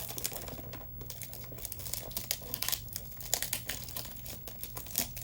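Perfume packaging is opened up close, with soft crinkly rustling and crackling of wrapping in irregular bursts, fairly quiet throughout.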